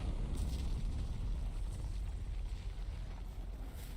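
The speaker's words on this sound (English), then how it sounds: "Damn, that's a cool explosion." A large explosion in a Final Fantasy video game, heard as a loud, sustained low-frequency rumble and roar that slowly thins out over several seconds, with no voices over it.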